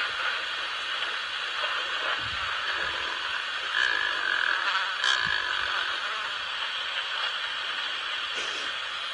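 A secretary bird gives long, low, burping growls with a frog-like croaking quality, carried steadily across a broad hiss of ambient noise outdoors at sunrise.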